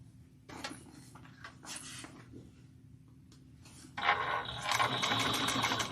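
A sewing machine runs in bursts of back stitches while binding a bag, stopping and starting, then settles into a steady louder run near the end.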